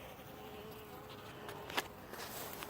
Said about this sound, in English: There's only a handful of bees left on this control box.